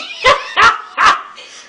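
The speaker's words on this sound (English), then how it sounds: "dog." Three loud, close dog barks come in an even rhythm about a third of a second apart, followed by a fainter fourth bark. No one talks.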